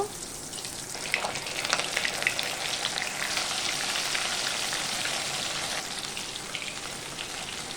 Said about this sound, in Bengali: সব মাছগুলো রেডি করে নিয়েছি। তেল গরম হয়ে গেছে, এক একে দিয়ে দেব।